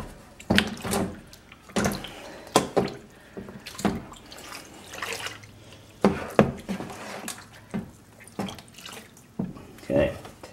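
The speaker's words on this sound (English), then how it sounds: "let's go ahead and rinse it" A cleaned arcade control panel gets rinsed under running water, with repeated splashing gushes and drips, a few clunks in between, and voices talking over it.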